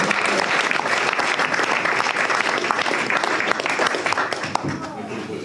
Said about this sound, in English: Give him another round of applause for being such a nice guy.